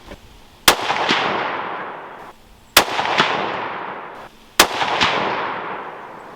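.308 rifle firing Remington 150-grain ammunition: three loud, sharp shots about two seconds apart, each followed by a quick echo and a long decaying outdoor reverberation.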